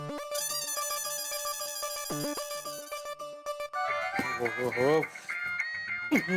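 A phone rings in a Hindi comedy scene with a repeating electronic melody ringtone, loud and continuous, then gives way to voices and other sounds.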